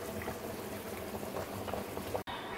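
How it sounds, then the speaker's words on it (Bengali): Meat simmers in a pot with ginger and garlic for a biryani, a quiet, continuous low bubbling close by with no voices. "আর এদিকে এই যে মাংসটাকে ওখানে চাপিয়ে দিলাম। ভালো করে এখন সিদ্ধ করব।"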